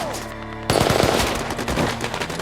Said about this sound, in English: The distance is significant, but both sides continue firing.